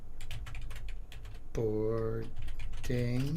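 Quick, close clicking of fingers on a computer keyboard during a live home broadcast, a brisk burst of keystrokes at first, then someone speaks over the keys.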